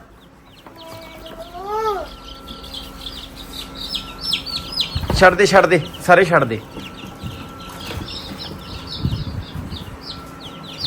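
Hens cluck and chicks peep around a person speaking, with a burst of louder, agitated squawking and flapping midway through.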